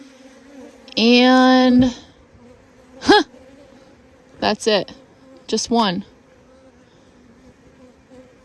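Honeybees buzz during a hive mite check, a steady close droning hum followed by several short bursts. A person talks in between.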